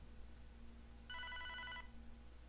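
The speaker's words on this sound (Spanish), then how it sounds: "Y sigue sonando el teléfono porque no lo contesté." A telephone rings in the video game Hotline Miami 2, one short electronic trilling burst sounding faintly above a quiet low hum.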